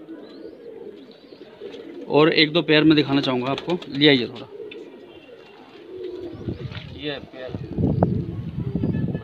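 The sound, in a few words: high flyer pigeons cooing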